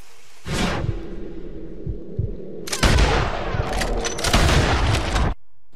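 Red Dead Redemption 2 panther hunt: loud close gunfire with a booming shot and heavy rumbling, a burst of further shots and crashing noise following, then a sudden cut to silence.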